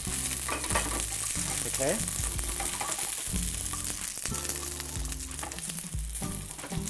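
String beans sizzle and crackle in very hot oil as they are stirred and tossed around a pan, a dense continuous frying hiss with occasional clatter of the utensil.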